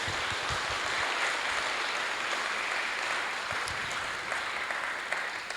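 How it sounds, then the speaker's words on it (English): Steady, sustained applause from an audience for a panel, a dense wash of clapping filling the whole stretch with no talking over it. "give our fantastic panel a very big round of applause"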